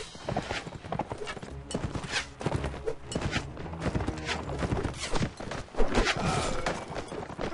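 Horse hooves clopping steadily while riding in the medieval combat game Mount & Blade: Warband, a continuous rhythmic clatter mixed with dense battle noise and music.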